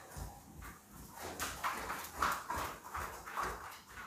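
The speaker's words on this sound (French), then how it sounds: "c'est Bob, c'est mon chien." A labrador named Bob whimpers indoors near a door, a run of high, thin whines rising and falling over several seconds at close range, with no one talking.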